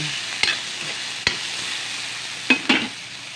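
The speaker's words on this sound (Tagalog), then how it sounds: "I-brown siya na to ang atong ginisang nga panakot guys." Chopped onion sautés and browns in a hot pan for a Filipino ginisa, giving a steady close sizzle broken by four sharp spatula scrapes and knocks against the pan. No one speaks.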